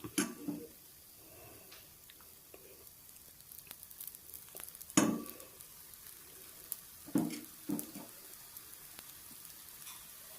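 Sweet kuzhi paniyaram made from idli batter frying in oil in a paniyaram pan, giving a faint, steady low sizzle with a few sharp taps and clicks scattered through it, no voices.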